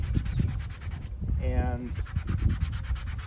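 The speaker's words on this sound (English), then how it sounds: "I'm going to start off with just some sandpaper" Sandpaper rubs across the surface of vintage suede child's chaps in steady, close scratching strokes that continue throughout, with a brief spoken word in the middle.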